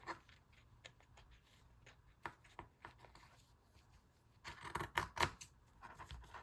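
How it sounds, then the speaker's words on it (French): Household scissors snip through paper for a collage, with a run of soft, irregular cuts and crisp snips near and moderately loud, growing busier toward the end, alone without talk. "C'est pas mes ciseaux de couture, mais ça coupe quand même très bien."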